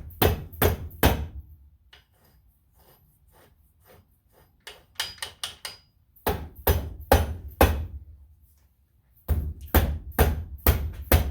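A hammer taps metal parts of a rebuilt Yamaha Raptor 660 engine in sharp, close strikes, fired in quick bursts of three or four with quieter taps and pauses between them.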